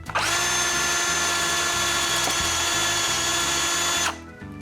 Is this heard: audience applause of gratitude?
no